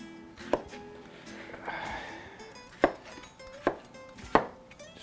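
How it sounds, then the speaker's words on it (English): Vegetables for Andalusian gazpacho, cucumber among them, are chopped on a board with a knife, giving several sharp, spaced thuds at an uneven pace in a quiet kitchen. "Chopping it into pieces."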